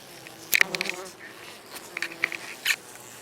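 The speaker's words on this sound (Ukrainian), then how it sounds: "Бджоли так само збуджені бачу." Agitated honeybees buzz from a winter hive opened for a humidity check, with short bursts of buzzing flaring close by over a quiet hum.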